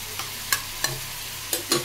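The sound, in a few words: stirring fried paneer with sugar and garam masala in pan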